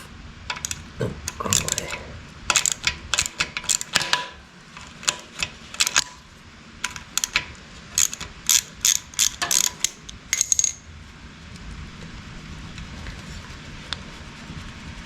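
Metallic ratcheting clicks come in quick bursts as the shifter is worked off a 1974 Yamaha DT175 dirt bike, loud and close, separated by short pauses and then fading into quiet near the end.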